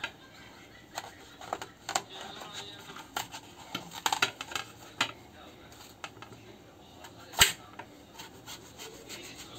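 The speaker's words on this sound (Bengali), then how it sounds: "আমি কচুটা ছুলে নিই।" Taro root is peeled by hand with a knife in a home kitchen, giving soft scraping and rubbing strokes in an irregular rhythm, punctuated by light clinks and one sharper knock, with a voice talking faintly in the background.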